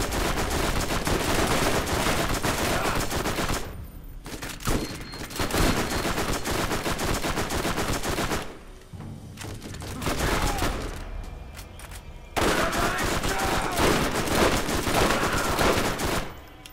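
Rapid bursts of gunfire from the video game Borderlands, loud and sustained with dense volleys broken by a couple of brief lulls, overlapping mayhem close up.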